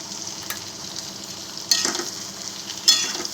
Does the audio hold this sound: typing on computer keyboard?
no